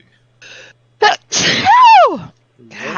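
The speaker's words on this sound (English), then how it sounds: "That's a good sneeze." A loud, close sneeze with a sharp intake and explosive release, followed by a falling vocal tail and a brief breathy noise.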